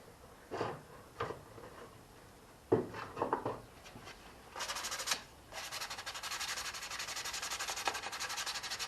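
Sandpaper rubs on a small wooden piece for a juice box holder: a few brief separate scratches, then longer steady back-and-forth rasping strokes, close and fairly soft, with no voices.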